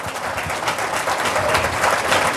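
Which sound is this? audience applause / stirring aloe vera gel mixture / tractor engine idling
audience applause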